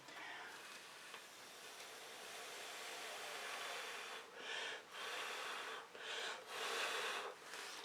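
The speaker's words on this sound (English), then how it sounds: "I think I'm just going to blow the orange again." Someone blows steadily onto orange fluid acrylic paint, a close, soft breathy rush that swells into several separate puffs toward the end, with no speech.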